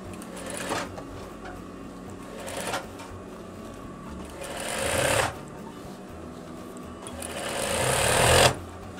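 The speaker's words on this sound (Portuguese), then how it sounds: "Vou passar mais uma costura na parte de baixo." A sewing machine runs in four short bursts, stitching another seam along the bottom of a veterinary coverall, each run rising to a quick, close, rattling whir before stopping.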